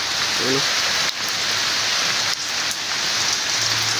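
Steady rain pours down outdoors, a loud continuous hiss of drops on surfaces with brief dips, heard alone without talk.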